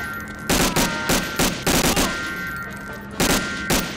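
Gunfire in the World War II shooter Medal of Honor: Allied Assault, loud close bursts of shots in irregular clusters, several rapid volleys separated by brief gaps, with no talking.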